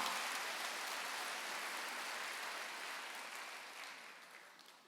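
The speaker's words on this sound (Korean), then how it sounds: "박수." A church congregation applauds during a Sunday worship service, a faint, dense wash of clapping from a distance that slowly fades toward the end.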